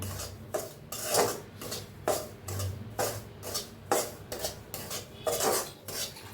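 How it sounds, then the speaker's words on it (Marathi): Semolina roasting in ghee in a pan is stirred steadily, with rhythmic scraping strokes of a spoon against the metal about once every half second over a low sizzle, close up and without talk. "तूप टाकून रवा छान असा भाजून घेऊया"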